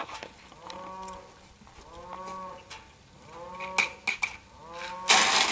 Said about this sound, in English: can tell which cow that is by her moo